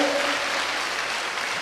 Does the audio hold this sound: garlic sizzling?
no